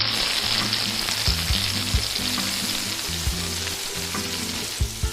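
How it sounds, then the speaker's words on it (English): A stick of butter sizzling in a hot skillet set over coals, a steady close crackling hiss with a few scattered louder pops, no voices. "The first thing that goes into the pan is 1 stick of butter."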